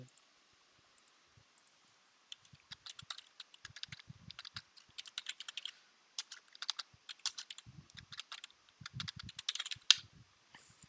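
Keys on a computer keyboard are typed in irregular bursts: quick, crisp, close clicks that come in clusters with short pauses between them, in an otherwise quiet room.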